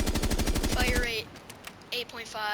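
A short, loud burst of rapid automatic gunfire in Rainbow Six Siege lasts about a second, then gives way to someone talking.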